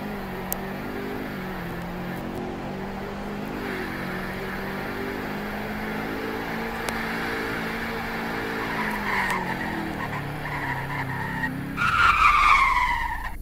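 A Chevrolet Corvette drives with a steady engine drone whose pitch rises and falls, then its tires break into a loud, sharp skid squeal near the end, with no talk over it.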